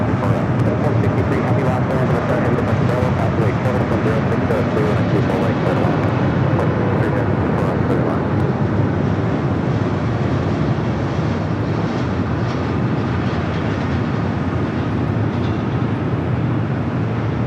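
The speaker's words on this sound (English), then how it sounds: "Good takeoff. Delta takeoff on 2 left" A Delta airliner takes off from runway 2 left at Los Angeles airport with a loud, sustained jet roar that holds steady and broad, then gradually softens as the aircraft departs, with a voice talking over it.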